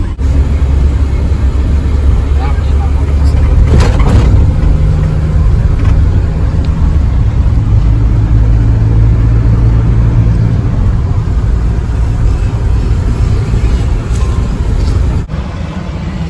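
A Volkswagen Golf driving on the road to an oil change gives a steady, low engine rumble throughout, with a slight swell early on and no one talking.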